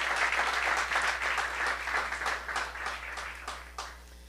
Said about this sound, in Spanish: ¿Cuántos damos una ofrenda de palmas?